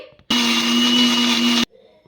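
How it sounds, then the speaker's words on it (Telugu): A mixer grinder whirs loudly and steadily for over a second, blending fresh coconut with water into a smooth paste, starting and stopping abruptly, with faint sounds before and after. "పచ్చి కొబ్బరిని వేసేసుకొని కొన్ని నీళ్ళు అనేది వేసుకొని మెత్తని పేస్ట్ లాగా మిక్సీ పట్టేసుకోవాలి"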